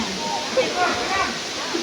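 Steady broadband rush of a waterfall at the base of the falls, a constant roar with some splashing, while people chat nearby.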